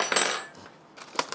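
A fork and other cutlery clatter in a home kitchen, with a burst of metallic rattling followed by a few sharp clinks, close and clear.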